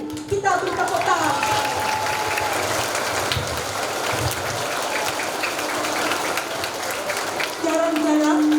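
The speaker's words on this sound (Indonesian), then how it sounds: "Kita beri tepuk tangan" A crowd claps steadily throughout at a school ceremony for National Education Day, applauding teachers and staff; a voice and some tonal sounds carry faintly over the dense clapping.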